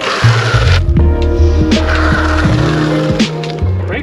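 A YUME M10 electric scooter travels above 30 miles per hour, its loud motor whine shifting pitch in steady tones, with gusts of wind noise and bumps along the way and no talking.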